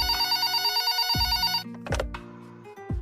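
A telephone rings for a caller on a Hindi radio quiz programme, a bright electronic ring followed by a few short clicks and tones as the call connects.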